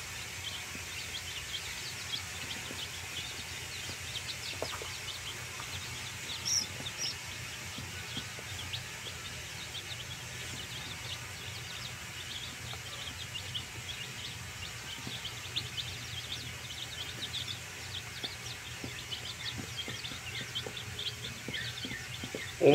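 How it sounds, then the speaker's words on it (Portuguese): Chicks in a farm yard, mixed free-range and guinea fowl stock, cheeping faintly and continuously at a distance over a steady outdoor background hiss. "vocês podem ver aí, tem bastante pintinho, né?"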